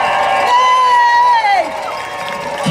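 Rally crowd outside the Ontario legislature at Queen's Park cheers and whoops to welcome a health coalition speaker, a steady mass of voices with a bright shout rising over it, fairly close and loud throughout.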